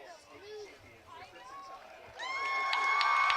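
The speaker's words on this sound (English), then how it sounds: "The fans are cheering." Fans at a 2018 high school softball championship game break into loud, sustained cheering and whistling after a quieter stretch of scattered voices, filling the scene with a bright crowd roar.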